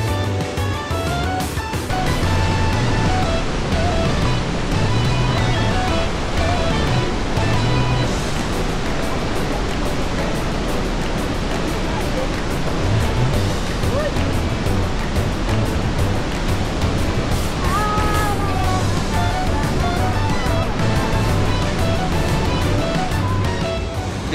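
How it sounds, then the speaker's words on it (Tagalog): Montmorency Falls thunders from its base as a steady, loud roar of rushing water, broad and continuous with no talk. "Ayun yung baba ng falls"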